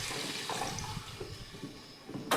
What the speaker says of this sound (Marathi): पाणी ओतून घेऊयात